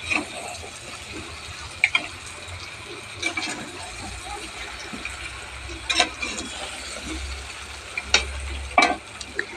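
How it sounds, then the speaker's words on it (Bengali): Mutton sizzles steadily in a pan, a constant frying hiss broken by occasional sharp clicks and scrapes of stirring, with no voices. "আরও 5-7 মিনিট ধরে ভালো করে ভেজে নেব।"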